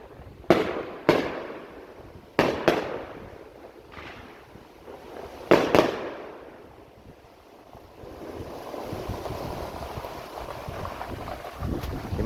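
Fireworks burst outdoors in several sharp, booming cracks spaced a second or two apart, followed by crackling rumble and steady wind noise buffeting the microphone.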